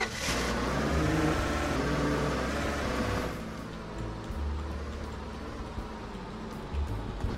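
A truck in Roblox Lumber Tycoon 2 hums and revs as it turns around, the engine steady and close, louder at first, then settling into a lower idle drone.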